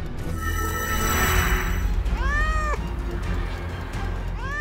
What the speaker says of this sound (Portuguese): Ela tá se transformando em um gato.